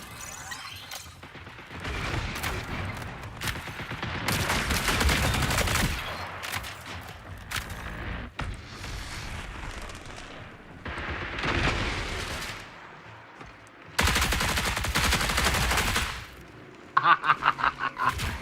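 Rapid gunfire in the ARC Raiders shooter game, bursts of loud shots and cracking impacts coming in waves with brief quieter gaps, close and intense, no one speaking over it.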